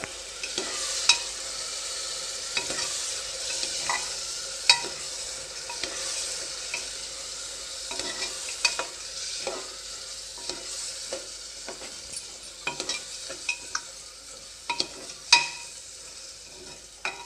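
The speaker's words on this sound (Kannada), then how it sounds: "ಅಕ್ಕಿ ಮಸಾಲೆ ಜೊತೆಗೆ ಚೆನ್ನಾಗಿ ಮಿಕ್ಸ್ ಆಗಬೇಕು" Rice being stirred with masala in a pan for North Karnataka biranji rice, steady frying hiss punctuated by repeated scraping and clinking of the spoon against the pan, close and alone.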